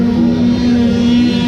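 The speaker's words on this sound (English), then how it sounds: "it's a dead engine start, so they got to start their quads here" GNCC race quads start their engines on a dead engine start at the Burr Oak race in Ohio, a loud, dense steady engine roar with a strong low hum, close and continuous.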